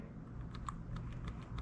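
Keystrokes typed on a wired USB computer keyboard, a quick irregular run of light clicks and taps heard close up with no talking.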